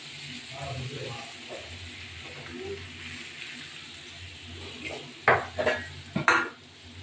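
Spice paste is stirred and fried in a pan, with a low simmering sizzle, soft scraping and a few sharp clanks of a utensil against the pan near the end, and talk in the background.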